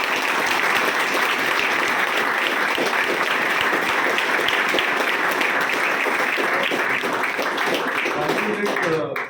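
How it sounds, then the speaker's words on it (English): Sustained applause from a large audience welcoming a student who cleared the SSB from 1 AFSB Dehradun, a dense, loud, continuous roar of clapping that holds steady and cuts off abruptly at the end. "So let's welcome him with a huge round of applause."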